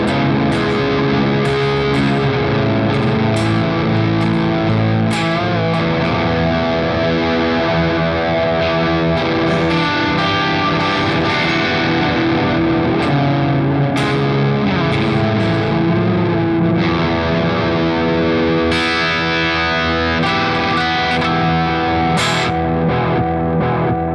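A heavily distorted electric guitar grinds out slow, sludgy riffs through an amp, loud and continuous with thick sustained chords and no voices.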